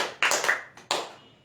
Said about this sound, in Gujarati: એમનું 3 તાળી પાડીને ખાસ આપણી ભજન સેવામાં પણ આપણે વેલકમ કરીએ છીએ